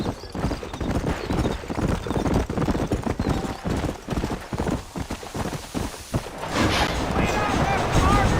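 Horse hooves clip-clop in a steady, fast rhythm through a Red Dead Redemption game scene set in New Ulster, with talk over the hoofbeats and a brief whinny-like sound near the end.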